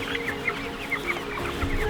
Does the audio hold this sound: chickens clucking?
yes